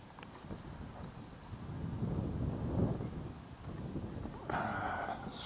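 Steady outdoor wind buffets the microphone as a low, roaring rumble while a Junior Play Sport Power Osprey rubber-band-powered model plane flies, with no voices.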